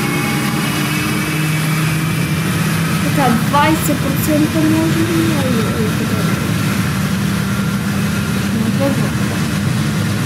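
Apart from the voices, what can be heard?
Boeing 777-300ER engine starting in Project Flight video game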